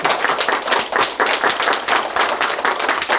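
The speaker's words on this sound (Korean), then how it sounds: "박수를 부탁드립니다" An audience at a tax accountants' association lecture claps in sustained, dense applause, the many hands making a loud, even patter throughout with no one speaking.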